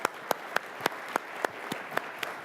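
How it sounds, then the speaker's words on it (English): Applause for panelists at a defence cooperation conference, with a string of distinct, evenly spaced sharp claps close by over a softer spread of audience clapping. "Please join me in a wonderful round of applause for these great panelists."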